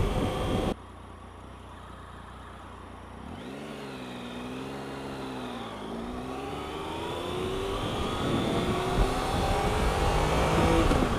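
A Triumph Tiger 1050 Sport triple-cylinder engine pulls hard under acceleration, its rising whine sweeping through gear changes, heard up close over steady wind roar with no talk.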